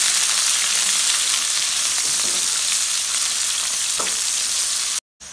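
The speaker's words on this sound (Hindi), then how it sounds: "गर्म हो चुका है, प्याज को हम गोल्डन करेंगे।" Onions frying in hot oil until golden, a constant hissing sizzle close up with a couple of soft stirring knocks, ending in a brief cut to silence.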